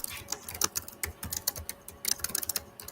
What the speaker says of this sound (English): Enoch, you got a nice clicky keyboard, Enoch.